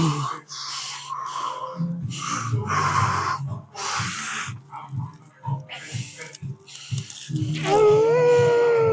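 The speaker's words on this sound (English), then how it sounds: "Good breathing, good breathing." A person breathes hard and heavily through repeated reps of a high-intensity leg workout, giving rhythmic snorting exhales close to the mic, with a strained groan rising near the end.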